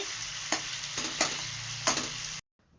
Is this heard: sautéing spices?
yes